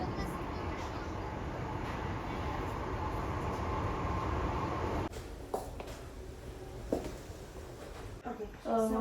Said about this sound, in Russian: И вот мы в Париже в метро.